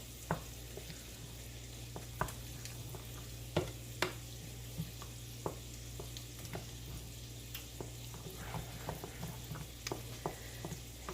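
Shredded cheddar cheese being stirred into a pot of grits: a soft, steady bubbling sizzle with scattered scraping taps from the spoon, close and fairly quiet, no talking.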